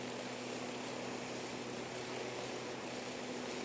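An aircraft engine in ARMA III S.O.G. Prairie Fire drones steadily as it comes in to land, with a constant propeller-like hum and broadband rush, moderately quiet and unbroken.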